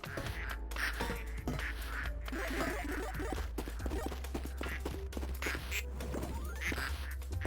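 Ducks quacking in the incremental video game Project PITT: a busy, overlapping chorus of many small quacks and clucks repeating throughout, over a low hum, with no talk.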